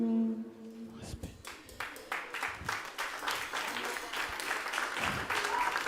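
A concert crowd applauds and cheers, with a brief sung or hummed tone at the start before dense clapping swells and holds steady, loud and close.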